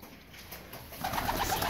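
Pigeons coo softly in a short outdoor stretch, a low burbling call that swells in the second half over faint background ambience.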